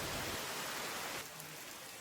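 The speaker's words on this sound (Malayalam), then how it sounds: "റിസോർട്ടിലേക്ക് എത്തിയ ഉടനെ തന്നെ നല്ലൊരു അടിപൊളി മഴയും" Heavy rain pours at a resort in Wayanad, a steady broadband hiss that eases slightly partway through, with no voices.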